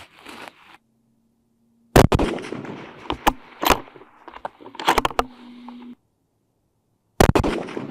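Sharp, loud shots from a CVA Cascade rifle fired on a range, several separate cracks spaced seconds apart, each followed by a brief rumbling echo, with silent gaps between them.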